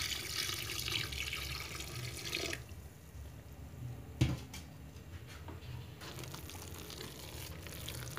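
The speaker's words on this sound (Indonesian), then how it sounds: "Kita tuang ya air santannya ya" Coconut milk being poured into batter for a traditional cake, a steady liquid splashing and trickling that stops partway through, followed by a soft thud and quieter bowl sounds.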